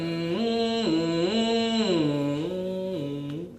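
A voice imitates a passing ambulance siren, wailing up and down in a steady cycle, then dropping in pitch as it goes by, mimicking the Doppler effect.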